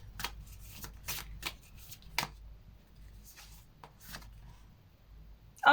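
Playing cards shuffled by hand for a tarot-style card reading, a series of crisp riffling bursts separated by short pauses, close and moderately quiet, ending in a sudden louder noise.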